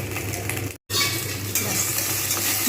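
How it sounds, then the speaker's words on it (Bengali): Okra pieces sizzle steadily while being stirred in a pan for a dry Bengali bhindi dish, with a continuous close frying hiss broken by a brief cut in the sound and scraping stirs throughout. "আমি কিন্তু এইভাবে নেড়ে নেবো ভালোভাবে ভেজে নেবো"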